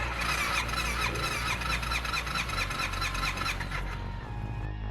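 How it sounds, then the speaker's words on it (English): A starter motor on a Suzuki Burgman scooter cranks the engine in a loud, close, rapidly pulsing whir with a high squealing whine, running steadily for about four seconds before cutting off. "So I know the starter works and it sounds decent."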